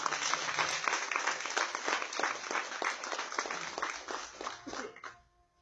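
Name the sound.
church congregation applause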